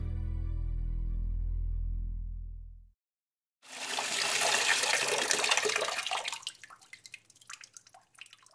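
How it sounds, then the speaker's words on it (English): A water tap runs after a low steady hum cuts off, giving a bright rushing gush for a few seconds that then thins into sparse drips and trickles. "turn taps off when you finish"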